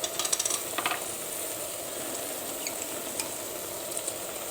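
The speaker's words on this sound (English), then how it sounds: "I'm just going to throw some extra heat in there with it" Chopped red chilies tossed into a pot of sizzling Texas chili, with a brief burst of clattering and stirring at the start, then a steady, moderate sizzle with occasional small pops.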